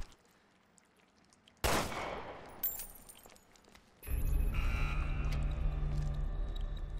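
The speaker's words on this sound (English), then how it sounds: "Let me try shooting it down." Gunshots in a Resident Evil survival horror video game: a sharp loud shot bursts out, then another crack, followed by a sustained rumbling noise bed with reverberant tones.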